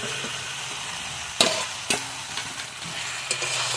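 A spoon stirs fried bhetki fish bones into spiced potatoes in a pan, giving a low sizzle with a few sharp scrapes and knocks.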